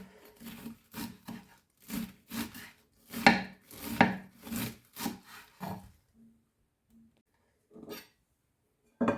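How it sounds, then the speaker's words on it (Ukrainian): Repeated rhythmic knife strokes shredding cabbage on a wooden board, close and distinct, pausing near the end with a couple of final cuts. "Для салату мені потрібно шматочок капусти, дрібненько нашинкувати, насікти."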